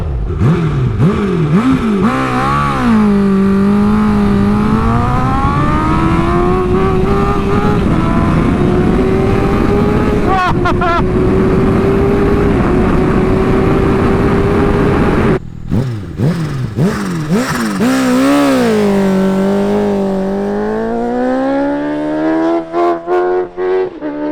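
A 250bhp Honda Fireblade sport motorcycle engine revs loud and close, then climbs through the gears under hard acceleration, rising and dropping in pitch with each shift, then revs again near the end.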